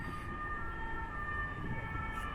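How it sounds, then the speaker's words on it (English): Emergency vehicle siren wailing steadily through a Paris street, a sustained tonal blare over a dense rumble of traffic, moderately distant and unbroken throughout. "You always think of those action movies when you hear the sirens."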